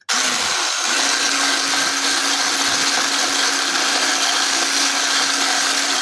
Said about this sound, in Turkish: Yarım paket krem şantimi ekledim ve çırpma işlemine geçiyorum.